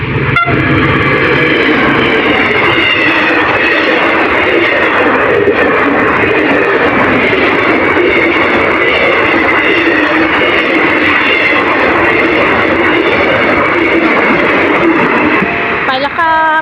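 Locomotive QSY 5206 hauls train 133 past at full speed on a crossing by a road, a loud continuous rumble and roar throughout, with a horn-like tone at the start, close and with someone talking over it.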